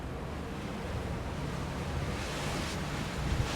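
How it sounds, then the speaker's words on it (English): Wind gusts across the flybridge of an Azimut 72 Fly cruiser during a sea trial, a steady broad rush mixed with sea noise, close and fairly loud with no voices. "There's a little bit of wind coming round the side."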